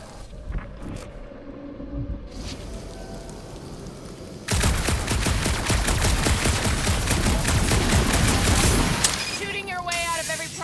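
Rapid sci-fi gunfire from Marvel's Guardians of the Galaxy erupts halfway through, a dense sustained burst of shots under game music after a quieter opening.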